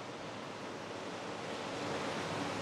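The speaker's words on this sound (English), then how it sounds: "And you can kind of see the waves coming in. But you can definitely hear them, huh?" Ocean waves roll in below a sixth-floor ocean-view hotel room, a steady soft wash of surf heard from a distance, alone and unbroken.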